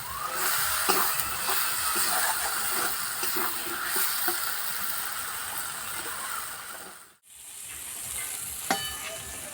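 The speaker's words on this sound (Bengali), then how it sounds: "আর মশলা কষানো হয়ে গেছে" Spiced masala paste sizzles in hot oil in a pan while cooking a jackfruit and prawn curry, a steady close crackling hiss with stirring scrapes, briefly cut off near the end before resuming.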